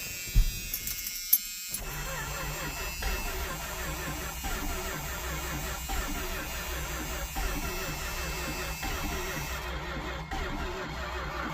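A 1979 Dodge engine cranks over with a steady, buzzing rhythmic churn that keeps going for several seconds, close and fairly loud, with no talking; it has a slight gallop and a miss.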